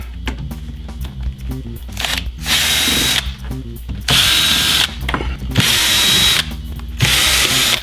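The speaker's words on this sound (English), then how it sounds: "I'm gonna pull the screws." A power drill backs screws out of a mini arcade cabinet in several short whirring bursts separated by pauses and clicks, loud and close with no talking.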